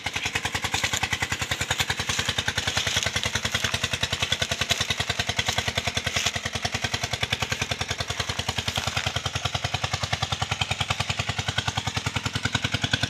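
A Kubota 5-horsepower engine runs steadily, a fast, even putter of rapid firing pulses at constant loudness throughout, heard close with no talk.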